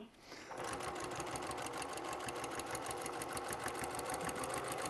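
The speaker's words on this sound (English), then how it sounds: "And we're just gonna keep on stitching, just like Dory, keep on stitching" A sewing machine stitches a tool kit journal, starting up after a brief moment and then running in a steady, fast mechanical rhythm close to the listener.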